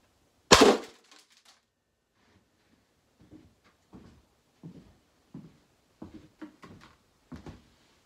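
A single loud, sharp shot from an AEA Defender air gun firing a less-lethal bean bag round, followed by a sharp decay and then a series of faint, soft knocks and rustles.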